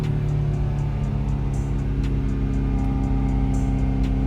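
An LS3 Corvette engine revs hard on a dyno after a downshift, a loud, continuous deep drone with steady harmonics and no talk over it.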